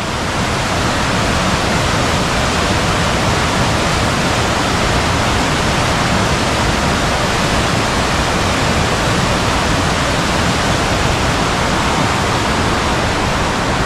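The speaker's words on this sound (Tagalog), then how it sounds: "Nasa kabilang side yung malakas na ulan." Heavy rain pours down steadily and loudly for the whole stretch, a dense, unbroken roar with no pauses and no voices.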